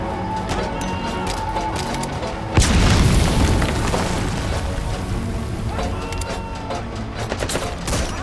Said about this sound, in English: They're gonna mortar strike again.